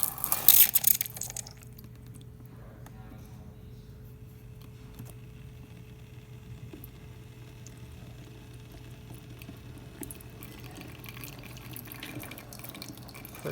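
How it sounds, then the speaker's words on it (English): A Krups espresso machine drips softly after a test shot, following a brief loud gush at the start, with faint trickling and a low steady mechanical hum underneath. "Pressurized, so it's going to keep dripping for a minute, but working just fine"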